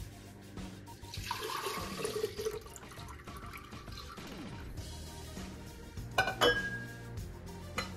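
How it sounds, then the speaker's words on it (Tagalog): Syrup pours and gurgles steadily into a pitcher, with clinking of glass or utensils and a brief sharper clatter toward the end. "Buksan natin yung ating pitcher. Buhos natin dito."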